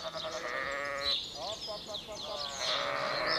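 Sheep bleating on lowland meadows and orchard pasture, several wavering calls overlapping close by, one after another across the stretch.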